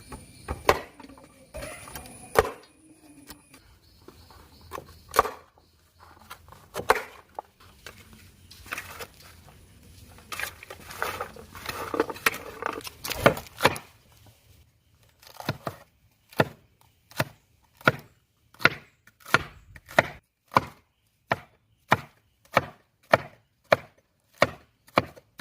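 A knife chops cauliflower into small pieces for gobi manchurian on a cutting board, starting with irregular taps and scraping, then settling into a rhythmic run of sharp, evenly spaced close-up chops.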